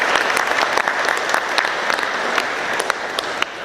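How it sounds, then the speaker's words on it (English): A room of Rotary Club members at a weekly meeting breaks into a brief round of applause, a dense, even patter of many hands clapping nearby for a few seconds. "give another round of applause for Bob and Paula Brent"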